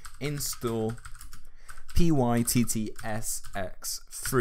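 Computer keyboard keys tapped while entering a pip install command at a command prompt, scattered soft clicks running underneath someone speaking continuously throughout.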